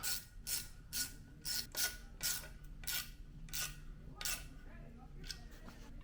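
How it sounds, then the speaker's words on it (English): Clamp being tightened on the exhaust of a Predator 212 mini bike, a series of sharp ratcheting clicks in uneven bursts, close and fairly loud, with short pauses between strokes. "Now all that's left to do is tighten this clamp up."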